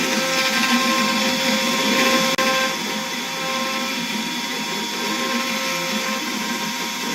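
A vacuum cleaner runs steadily with a loud, even motor whine and hum, continuous throughout with a brief click near the start.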